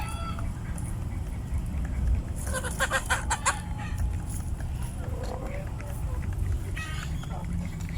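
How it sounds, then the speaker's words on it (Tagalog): A backyard flock of hens, many of them black, with three Rhode Island Red roosters, clucks in short bursts against a steady noisy background, with a louder cluster of calls partway through and another near the end. "Maraming hen din tong itim mga kaputak, pero meron 3 rooster."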